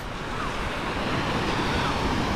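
Ocean waves wash along a seaside shore in a continuous loud roar of surf, with wind buffeting close to the microphone.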